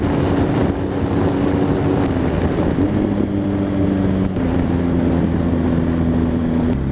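A motorbike is ridden at speed along the A3 in Surrey. The engine drones steadily under heavy buffeting wind rush for several seconds, and no one speaks.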